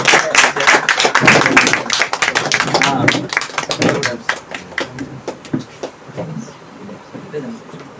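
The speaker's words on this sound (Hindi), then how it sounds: "जरा जोरदार ताली से हम लोग उनका भी" Enthusiastic audience clapping in an indoor gathering at a herbal store event, welcoming a chairman; dense, loud applause that gradually thins and fades, with a speaking voice over it.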